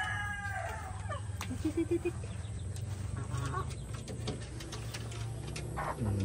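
Black Australorp chickens make soft, intermittent clucks and short calls over a steady low rumble, close by with faint background noise.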